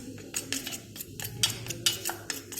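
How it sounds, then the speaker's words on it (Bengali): A spoon stirs a toothpaste and vinegar cleaning paste in a small container, giving quick scraping clicks and taps in an uneven rhythm, close up and fairly quiet, with no voices. "তো মিশ্রণটি এখন ভালোভাবে নাড়াচাড়া করে নেব।"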